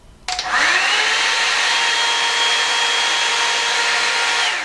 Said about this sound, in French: Le bruit de cette brosse est pire qu'un sèche-cheveux, hein.